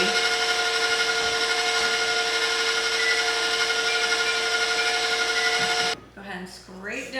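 An electric mixer creams butter and sugar at medium-low speed as a steady, loud whirring drone, then cuts off abruptly near the end, leaving softer kitchen sounds.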